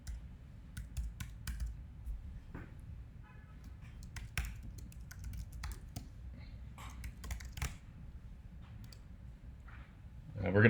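Codes are typed on a computer keyboard in short bursts of close, crisp key clicks with uneven pauses between them, and faint speech shows up near the end.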